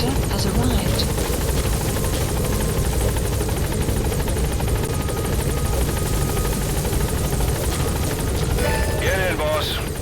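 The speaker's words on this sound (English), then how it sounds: "Support helicopter has arrived." Support helicopter in the Metal Gear Solid V: The Phantom Pain video game, its rotor roar loud and steady throughout, with game voices talking over it.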